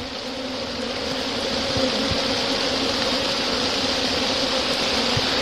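Honey bees swarming in a nest among bamboo roots, a dense, continuous close buzzing drone that holds steady and slightly swells, with a few soft knocks underneath.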